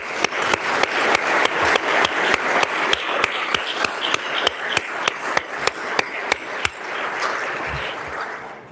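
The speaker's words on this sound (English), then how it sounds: "Let's give her a round of applause," A round of applause in a legislative house session, with sharp, regular claps spaced close together over a dense bed of many hands, continuing evenly for several seconds before fading slightly near the end.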